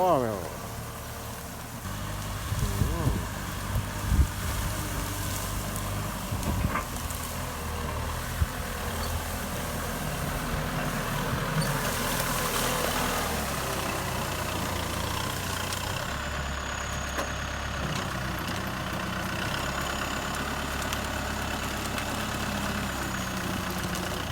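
A heavy Kubota M6040SU tractor engine chugs steadily at a distance for a long stretch, dragging a tyre to flatten overgrown grass, with someone talking over it throughout.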